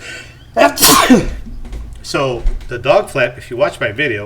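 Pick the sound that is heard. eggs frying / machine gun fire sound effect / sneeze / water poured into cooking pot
sneeze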